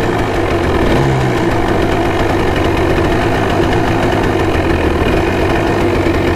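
A Honda ATC 250R three-wheeler engine runs at a steady, rough idle, loud and close, with a low thumping pulse and slight mechanical knock throughout and no talking.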